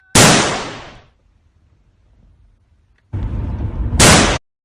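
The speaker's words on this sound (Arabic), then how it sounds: "ترى لعبة مسدس خرز" A toy bead gun fires two sharp, loud bursts. Each is a short hissing blast that fades, the second coming as a double pop, and quiet lies between them.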